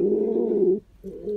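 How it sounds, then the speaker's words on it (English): A pet cuckoo named Elijah gives soft, low cooing notes nearby: one sustained coo, a brief pause, then another coo beginning. "Look at that cuckoo"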